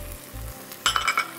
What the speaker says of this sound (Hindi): इसमें हम अदरक लहसुन का पेस्ट शामिल करेंगे और उसको अच्छी तरह फ्राई करेंगे